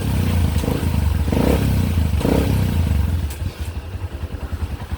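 A Honda TMX125 motorcycle runs after a major overhaul and stick bearing install. The engine drones steadily and loudly up close, then settles into a pulsing, choppy idle.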